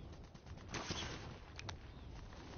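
Players shoot at each other in the Warzone video game, with faint, distant bursts of gunfire and a couple of sharper cracks in a short, quiet stretch.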